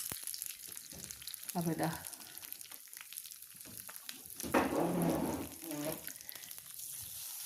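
Curry leaves spluttering in hot oil for a mango pulissery, with crackling bursts of sizzle over a constant hiss while someone talks briefly.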